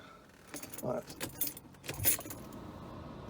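Car keys jangle and click as the ignition of a Mercedes W124 is switched on, a few short metallic rattles close up against a quiet interior hum.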